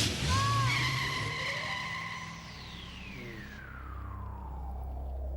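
Car tires skidding and squealing in a cartoon scene, with a long screech that slides downward in pitch over engine rumble, loud and close, no talking.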